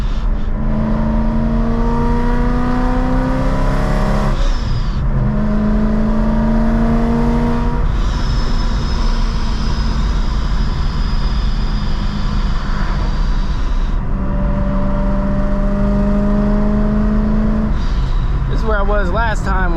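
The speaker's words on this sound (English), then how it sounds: "I want to throttle this thing so bad." A Procharged BMW M3 heard from inside the car, its engine droning loudly and climbing repeatedly in pitch through several long revving pulls, with a driver's voice heard over the engine.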